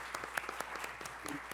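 Applause after a talk on personal branding, heard as faint, distant, scattered claps with a soft, even crowd wash behind them.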